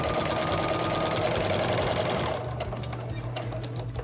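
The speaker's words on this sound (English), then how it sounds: "I'm gonna start sewing about an inch or so before where I stopped, and then I'm gonna continue sewing an inch or so past where I began originally." A sewing machine stitching quilt binding, running in a fast, steady whir at first and then continuing more quietly with distinct needle clatter in the latter part.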